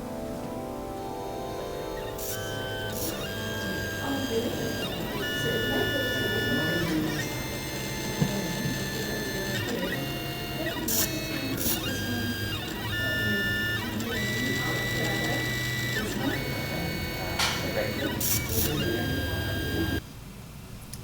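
A pen plotter drawing, its motors whirring and buzzing in rapid short strokes with tapping and clicking as the pen moves, continuous and mechanical over a faint background murmur.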